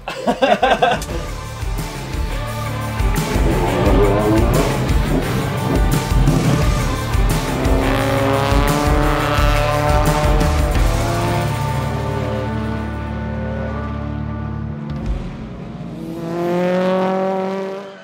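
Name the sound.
touring race car braking and going off the road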